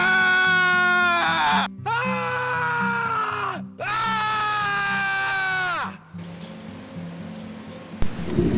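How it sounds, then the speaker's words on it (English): Several men yell and scream together out in a forest, long sustained cries rising and breaking in loud bursts with short gaps between them, ending in quieter outdoor rustle. "we were asked to go out into the forest and to just yell"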